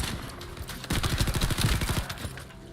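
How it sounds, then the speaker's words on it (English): A rapid volley of gunshots from a gun in a video game, a fast burst of repeated shots that swells loud in the middle of the clip and then fades. "I like the sound of this gun."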